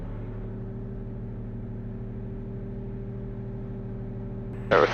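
A Diamond DA50 RG aircraft's 300-horsepower engine holds a steady, even drone during a pre-takeoff power check, with a brief louder burst right at the end.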